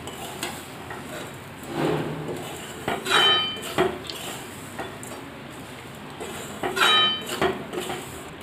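Semolina, grated coconut and sugar are stirred in a pan with a metal spoon, giving repeated scraping strokes and a few bright clinks against the pan over a faint dry sizzle.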